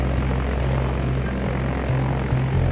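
A de Havilland Twin Otter that has just arrived runs its propeller engines with a steady loud drone and a throbbing low hum, close by and with no talk.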